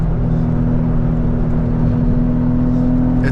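Steady engine drone from a Porsche 996 climbing Angeles Crest Highway, a constant mid-low hum with road noise and no talk, holding at an even level throughout.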